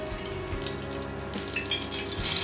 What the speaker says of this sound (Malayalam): ഇനി എണ്ണ ഒഴിക്കുക